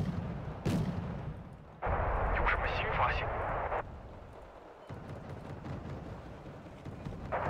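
Mortar fire in the modern-warfare strategy game Wargame Red Dragon comes as a series of booming blasts, with one sharp crack, one loud sustained roar in the middle, and dull thumps later on, while people talk over it.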